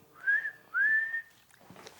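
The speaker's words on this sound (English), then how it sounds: "That's your whistle." Two rising whistled notes, clear and close, followed by a brief rustle of background noise.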